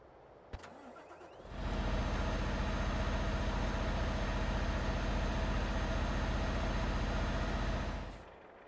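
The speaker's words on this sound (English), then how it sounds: "But is that the engine dying?" A truck engine in the TruckersMP driving game runs as a loud, steady low rumble after a sharp click. It holds for about six seconds, then fades out as the engine dies.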